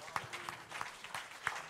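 A church congregation clapping in a steady rhythm, with soft beats roughly every third of a second and low, continuous talk or singing underneath.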